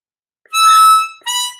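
A short harmonica phrase on numbered holes, one long bright blown note followed by a briefer second note after a small gap, heard close and alone.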